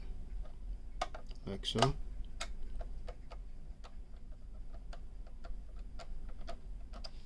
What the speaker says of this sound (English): just take your flathead and unscrew it